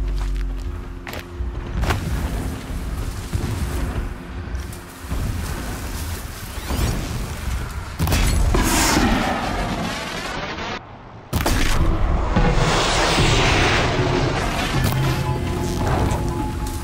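Distant explosions rumble in the Horizon Zero Dawn game world, heavy booms and crashes rolling in over about seventeen seconds, with a couple of louder, closer-sounding blasts landing near the end under a steady game ambience.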